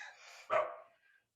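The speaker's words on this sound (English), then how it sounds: "Yeah, you got a dog." A single dog bark rings out once, fairly faint and a little distant, preceded and followed by quiet room sound.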